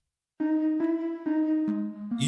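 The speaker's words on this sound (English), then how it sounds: "Now you see how heavy and thick that bell sound?" A series of dense, bright synth bell notes, five struck in steady rhythm with ringing overtones, the last note dropping lower before a noisy burst.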